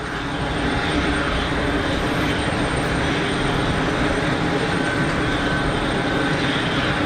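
A small Pilatus PC-12 single-engine turboprop approaching Geneva Airport, with a steady, loud broadband engine roar that holds without a break for the whole stretch.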